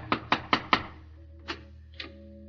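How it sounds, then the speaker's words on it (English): Someone knocks on a front door in a radio drama: four quick, firm raps, then two slower single knocks after a pause. The knocks are close and loud over a low background hum, with no talking. "He knocks on the front door."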